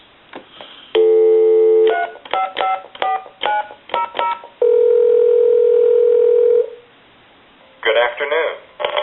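Telephone line sounds during a call to a time-and-temperature number, heard through a handset: short dialing beeps, steady held tones and a long drone, broken up by clicks and bursts of line noise. Near the end a recorded voice comes on.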